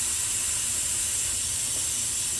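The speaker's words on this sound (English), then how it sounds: "We're coming to the end of the quick release of the pressure" A pressure cooker's valve hisses loudly and steadily with escaping steam during a quick pressure release while cooking sweet potatoes, a constant close rushing noise with no talking over it.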